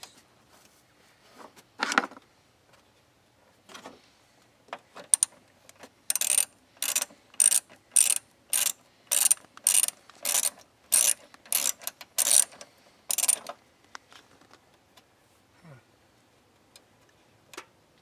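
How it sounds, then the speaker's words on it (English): A 10mm socket ratchet loosens the bolts on a car battery's terminal connectors. It makes close, sharp clicking in quick rhythmic bursts, with a long steady run of clicks in the middle. "Taking off the connectors right now with the 10mm socket."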